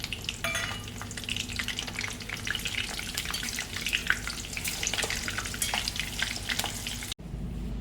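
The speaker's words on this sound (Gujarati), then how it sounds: "મરચાં તળી લઈશું." Chilies frying in hot oil, cooked as part of a batch of crispy spinach bhajiya, a steady close sizzle with crackling pops throughout that stops abruptly near the end.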